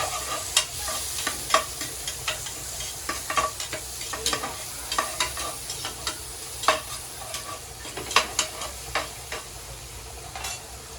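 Tomatoes sizzle in a pan under a steady hiss, with regular scraping stirs and spatula knocks recurring throughout.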